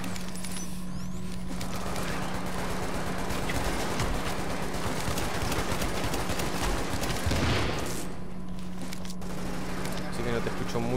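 Dense gunfire rattles almost nonstop in a tactical shooter PvE raid at Warren Gate on legendary difficulty, loud bursts and volleys layered over a low hum, with someone talking throughout.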